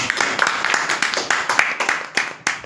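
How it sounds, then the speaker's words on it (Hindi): An audience claps together in a brisk, rhythmic burst, many hands sounding close and loud with a steady beat throughout. "एक बार ताली बजा सकते हैं"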